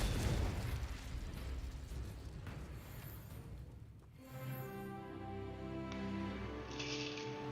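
A Confringo spell explosion in a Harry Potter video game bursts with a rumbling boom, followed by crackling debris and a resonant, ringing tail of game effects.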